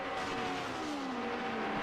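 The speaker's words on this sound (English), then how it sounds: "So that's Shepherd locking up some tyres into the last turn." Race car tyres locking up under braking into the last turn at Mont-Tremblant during a Formula V8 championship race, a brief squeal riding over steady engine roar, fairly faint and distant with no talk.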